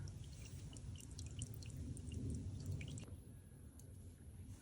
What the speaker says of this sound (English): we'll let this drip as long as we can